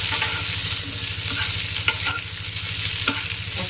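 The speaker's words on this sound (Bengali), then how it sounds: "পেঁয়াজগুলো একটু ভাজা হয়ে গেছে এখন দিয়ে দেবো একটা টমেটো ওটাকে সাথে ভেজে নেবে" Steady sizzling of onion and tomato frying in a pan, with a few soft scraping stirs on top, continuous and close.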